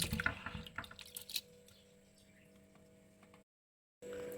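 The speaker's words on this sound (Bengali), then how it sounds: "আমি এবার জলটা ঝরিয়ে নেবো" Water draining off boiled snails in a home kitchen: splashy pouring and dripping at the start, settling into a quiet trickle, then a short silence and a faint hum.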